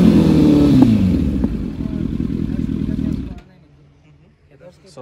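Motorcycle engine revving through a Goblin exhaust, a loud deep bassy rumble with a rising rev near the start, then cutting off abruptly to near silence partway through; close by.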